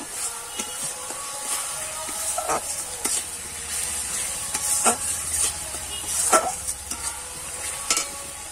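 Masala spices for a Bhetki fish and taro curry being sautéed in oil in a pan, with a steady sizzle and repeated scraping and stirring strokes of a spoon, close and fairly quiet.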